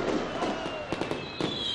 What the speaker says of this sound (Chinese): 烟花为讯，活动开始。